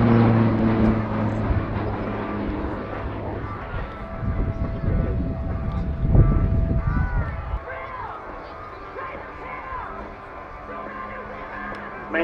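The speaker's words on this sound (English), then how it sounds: "the pilot reverses the aircraft and continues to fly inverting." Hellenic Air Force Daedalus display aircraft flying inverted at an airshow, a loud propeller-driven engine drone that swells and fades past the crowd, with a commentator's voice over it.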